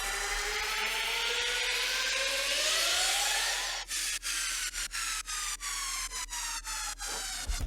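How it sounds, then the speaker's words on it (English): A bright hiss of white noise rises and then sweeps downward, followed by rhythmic pulses ducking the sound at regular intervals. "And you've got the white noise down sweeps."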